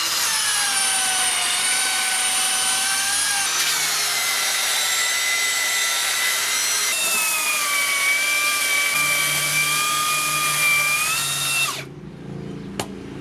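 Cordless belt sander grinding across wood, a steady high motor whine with strong harmonics running continuously for about twelve seconds, shifting pitch slightly twice as the load changes, then cutting off abruptly into near silence.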